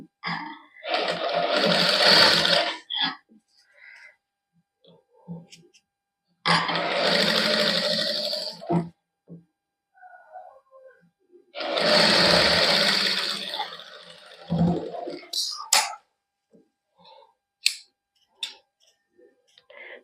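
Sewing machine running a loose temporary basting seam to fold over wide flower-pattern lace on a sleeve, in three long bursts of steady stitching with brief quiet gaps and small handling ticks between.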